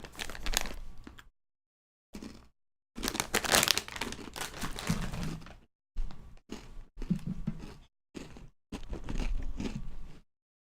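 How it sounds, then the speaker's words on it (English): Ginger snap cookies being eaten up close, giving bursts of crisp crunching and chewing separated by short silences, loud and near with no talking. "I don't know if the crunching will sound annoying or not."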